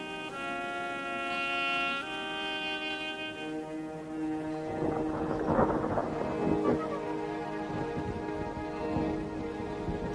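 A prairie thunderstorm with steady rain pattering down while deep rolls of thunder rumble and crack in the middle, heard with no voices under a low tonal drone at the start.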